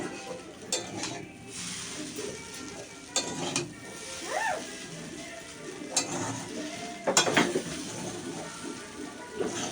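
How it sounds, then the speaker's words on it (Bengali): Vegetables stirred in a pan for chow mein, with soft scraping and a low sizzle broken by a few sharp utensil clicks against the pan, close but fairly quiet, with some talk faintly in the background. "এরমভাবে নাড়িয়ে নাড়িয়ে নাড়িয়ে নাড়িয়ে এটা কিন্তু করে নেবে"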